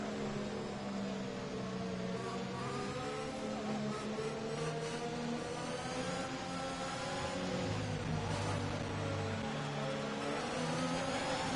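Race cars in the video game F1 2021 accelerating together at a restart in Italy, a steady layered engine whine and drone rising in pitch, continuous and fairly even in loudness throughout.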